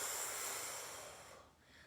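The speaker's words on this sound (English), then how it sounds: "Look at all that deep breathing we get to do today." Slow, deep exhale during a floor core workout, a soft breathy hiss that fades out over about two seconds, close and quiet with nobody speaking.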